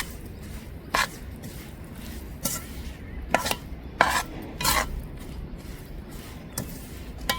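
Golden roasted sesame seeds and chickpeas being stirred together in a pan, making irregular scraping clacks and soft rattles of spoon against metal over a low steady background hum, with no talking.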